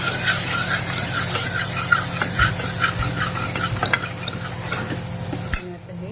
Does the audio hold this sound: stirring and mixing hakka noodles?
yes